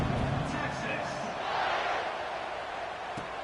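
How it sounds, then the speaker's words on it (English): A stadium crowd at a football game keeps up a steady, loud, broadband buzz of murmuring and cheering after a score, with no clear gaps throughout. "this crowd is buzzing after that last score"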